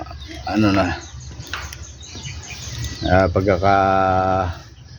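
Pet pigeons, chickens and other birds call from their pens, with a loud, drawn-out crowing cry near the end over scattered chirps; a voice may be mixed in.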